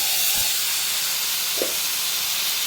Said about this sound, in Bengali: তেল দিলাম, সর্ষে দিলাম, শুকনো লঙ্কা ফোড়ন দিলাম,